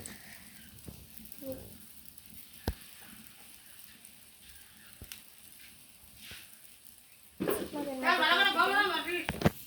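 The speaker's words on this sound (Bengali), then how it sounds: "এখন কড়াইয়ে তেল গরম দিয়েছি। এখন বুলবুলিগুলো ভেজে নিব।" After a quiet stretch with a few faint clicks, a loud steady sizzle of bulbuli fritters frying in hot oil in a wok bursts in and continues close up.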